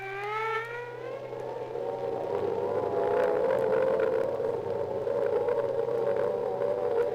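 A wailing World War II air raid siren in Britain during the Battle of Britain rises and holds a long, steady mournful tone, loud and slightly distant, with no voices.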